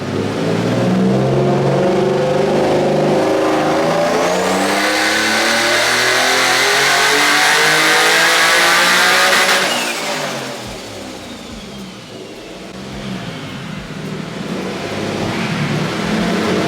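A single-turbo, HR-swapped Nissan S15 revs hard on a dyno, its engine note climbing loudly for several seconds before the throttle lifts and it drops back to a lower, rumbling run.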